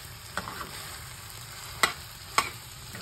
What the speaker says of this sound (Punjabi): ਹੁਣ ਆਪਾਂ ਇਹਨੂੰ ਚੰਗੀ ਤਰ੍ਹਾਂ ਮਿਕਸ ਕਰ ਲੈਣਾ ਹੈ ਮਸਾਲੇ ਦੇ ਵਿੱਚ ਇਹਨੂੰ ਥੋੜਾ ਜਿਹਾ ਡਰਾਈ ਜੇ ਭੁੰਨਣਾ ਹੈ